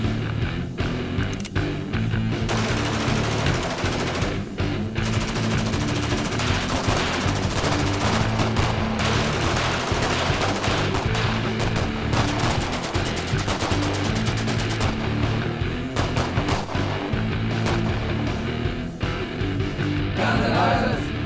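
Continuous rapid gunfire at a combined petrol station and gun range in Adelaide, a dense, loud barrage of bursts and shots running nearly the whole time with no pauses.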